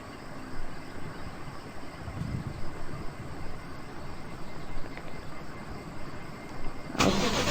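An engine turns over and fires in the Car For Sale Simulator game, a broadband rumble running steadily throughout and swelling into a loud burst right at the end.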